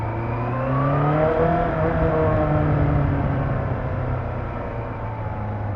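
A rebuilt Yamaha FZR1000 motorcycle engine runs on the road in a steady drone that rises and then holds, loud and continuous with a harmonic whine and no voices.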